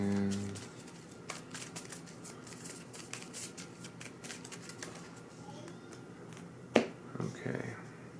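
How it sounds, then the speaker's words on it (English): Marvel Champions playing cards being shuffled into a deck at a tabletop: quiet, rapid riffling flutters and soft card slaps, with a sharper snap near the end. "Shuffle these in."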